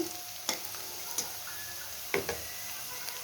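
Spices frying in a pan for a fish curry, a soft, continuous sizzle broken by a few sharp clinks of a spoon or spatula against the pan while stirring.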